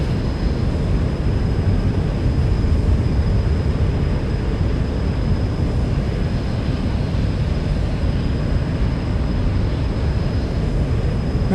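A Zibo Boeing 737 flyby in a flight simulator game, a loud continuous jet engine roar with dense low rumble holding steady throughout, no voices.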